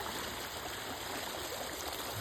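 Rainwater rushes in a steady, even stream after two hours of heavy rain during the monsoon, a constant wash of flowing water with no voices over it.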